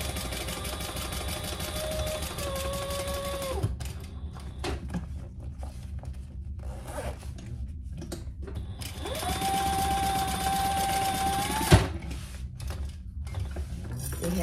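A sewing machine stitches a seam on a backpack in two bursts of steady mechanical whirring, separated by quieter handling noises and a sharp click near the end.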